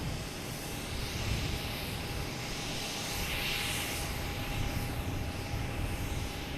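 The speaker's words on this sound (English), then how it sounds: "United Airlines on 15 right, taking off, heading to LAX." A United Airlines jet takes off from runway 15 right at Boston Logan, bound for LAX; a faint, distant, continuous engine roar with a steady whine runs throughout.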